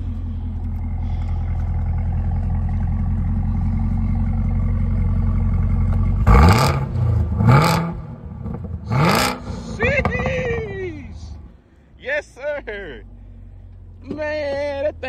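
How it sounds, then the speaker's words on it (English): A Chevrolet Camaro ZL1 engine idles with a deep rumble, then roars through several sharp revs that rise and fall, with voices talking in between. "I'm gonna close the door real quick and get one good rev."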